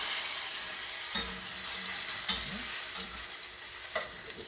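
Lamb shanks sizzle steadily as they brown in a hot pan, a constant bright frying hiss with occasional faint pops and clinks, fairly quiet and with no talking.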